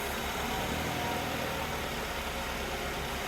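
A 2003 Mazda Protege5 engine idling after its starter was jumped, a steady low rumbling drone with a regular pulsing throb, close and continuous.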